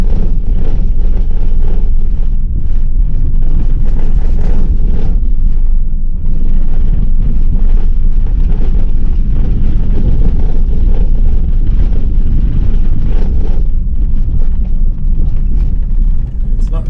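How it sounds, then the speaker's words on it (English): A 4WD rattles over corrugations on the Holland Track, a steady loud rumble with wind buffeting throughout, heard from inside the vehicle. "Corrugations here and there, as you can hear."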